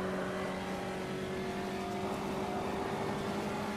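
Puma GTE race car engine in the racing game Automobilista drones at a steady, fairly quiet pitch, heard from onboard without any talk.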